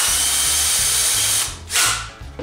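Power drill driving machine screws through the head of a steady rest, a loud close whir that steps down and cuts briefly before spinning up again.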